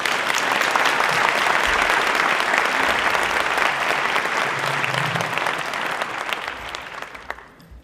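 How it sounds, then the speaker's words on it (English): Sustained applause from a sizable audience at an MLK Day convocation, dense and even, slowly tapering off toward the end. "Another hand of applause for Dr. Smith."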